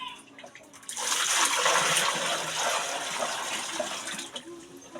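Water is poured into a clogged toilet in a small bathroom, making a steady rushing splash that swells after a quiet start and then tapers. Faint voices sit underneath.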